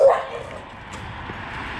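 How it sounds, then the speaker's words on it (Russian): A dog on a street in Antalya, Turkey, gives a short yelping bark at the start, then faint whimpering yips fade into quiet street ambience. "А то облаяли."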